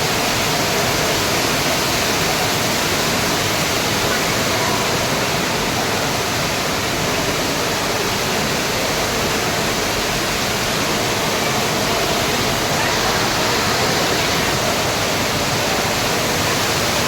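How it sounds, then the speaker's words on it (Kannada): An indoor waterfall at an aquarium in Bengaluru pours continuously, producing a loud, dense, even hiss and roar heard up close with no breaks. "ನಿಮಗೆ ಜಲಪಾತ ತೋರಿಸ್ತೀನಿ ಬನ್ನಿ."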